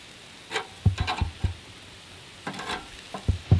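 Swamp bluegill fish frying in a pan, cooking on the second side, with a soft sizzle broken by a few sharp pops and crackles that come in small clusters.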